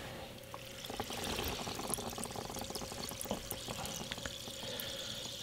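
A sharpening stone soaking in water, giving a quiet, steady fizz of bubbling and trickling close by for several seconds, with no talking.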